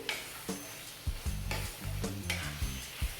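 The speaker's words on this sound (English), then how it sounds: "So I like to add tomato puree." Tomato puree goes into a frying pan of shepherd's pie filling, with a bright sizzle and repeated thuds and scrapes of a spoon stirring it through, close and without talk.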